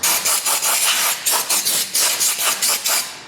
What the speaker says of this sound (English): I'm going to get some compressed air because it leaves little metal chips.